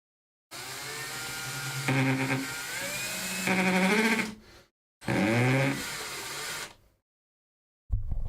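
A power drill whines in several bursts while drilling a pilot hole for model railway track, its pitch rising and falling as the motor speeds up and slows, close by with short pauses between runs.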